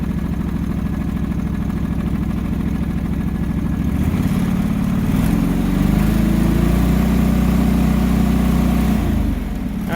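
The engine of a John Deere 445 tractor idles smoothly and steadily up close, a loud continuous low rumble with a slight shift in pitch partway through and no voices.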